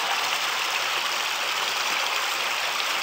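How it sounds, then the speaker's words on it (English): A small creek flowing over rocks and bedrock in the outdoors, a steady, full rushing wash of water close by with no breaks or voices. "Beautiful little creek."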